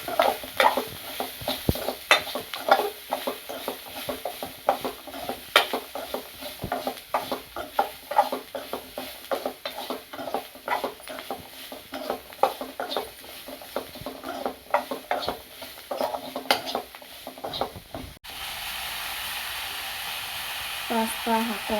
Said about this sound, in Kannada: ಎಲ್ಲವನ್ನು ಹಾಕಿ ಫ್ರೈ ಮಾಡೋಣ.